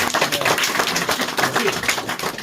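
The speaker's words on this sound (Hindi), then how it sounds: "ताली बजा सकते हैं इस बात के लिए" A church congregation clapping together, a dense burst of many hands at close range that continues steadily throughout.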